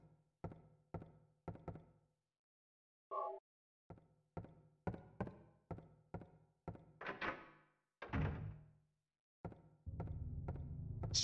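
Door handle rattled and tried against a lock in the Silent Hill video game, set in Midwich Elementary School: a string of dull thunks and knocks in short bursts, fairly loud and close, with no talking.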